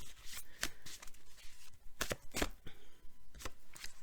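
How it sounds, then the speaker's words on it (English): A deck of tarot cards being shuffled by hand in a quiet room, soft riffling bursts and sharp card snaps in an irregular rhythm, close and fairly faint, with no talking. "So Libra, your oracle card, and let's shuffle for your tarot."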